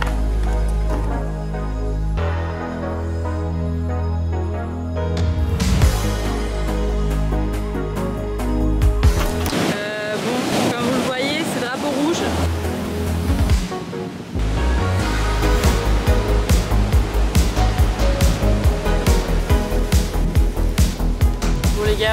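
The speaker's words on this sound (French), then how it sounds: "On est arrivé à la plage, il y a des vagues" Ocean waves break on a Bali beach with surfers out, a steady loud wash of surf mixed with wind noise buffeting the microphone, while people talk and music plays at times.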